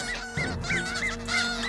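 Geese honk in a loud, continuous string of calls while defending their chicks from a fox. Several overlapping honks sound close and harsh, with no talking.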